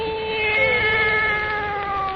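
A cat sound effect in a radio drama about an old woman and her wise black cat: one long, wavering meow held for about two seconds, loud and close, with no talk over it.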